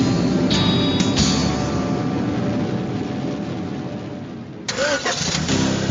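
A car engine cranks and turns over inside a radio advert on the talk station in GTA: Vice City, a loud broadband roar running throughout with a brief dropout near the end before the rumble returns.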